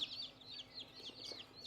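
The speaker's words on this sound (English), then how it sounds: "it looks like we got 3 roosters and 20 hens" Chickens, a mix of roosters and hens, cluck and peep in quick, faint overlapping calls throughout a short stretch, with no talk.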